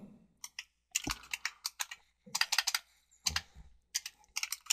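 Rapid clicking of keys on a computer keyboard as a virtual machine name is entered, coming in short irregular bursts of close, crisp taps separated by brief pauses.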